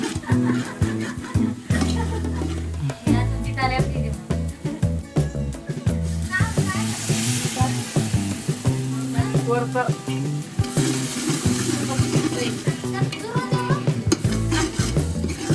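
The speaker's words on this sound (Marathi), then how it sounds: "मस्त लसूण आणि कांदा भाजलाय." Garlic and onion fry in a pan in a Maharashtra village kitchen, sizzling steadily throughout while voices and other household sounds carry on over it.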